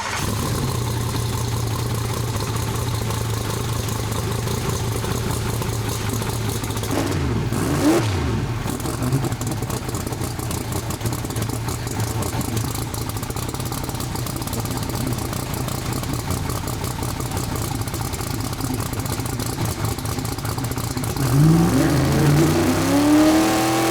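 A turbocharged car engine holds a steady, loud drone throughout, with a brief dip and swell midway and rising whine near the end as the throttle opens.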